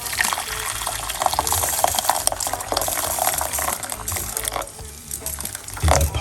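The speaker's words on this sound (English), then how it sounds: "we're going to put 1 cup of hot water" Hot water poured into a cooking pot for a simple drink recipe, a steady gushing, splashing stream running nearly the whole clip with a brief lull near the end.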